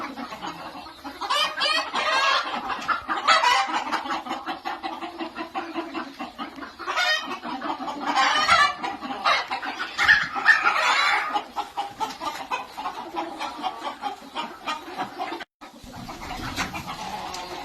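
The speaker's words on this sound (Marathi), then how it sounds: "कोंबड्यांची क्वालिटी आणि कोंबड्याची क्वालिटी बघा" Free-range village chickens and a rooster in a backyard poultry flock, clucking and chattering in dense overlapping bursts close by, rising and falling throughout with no talk over them.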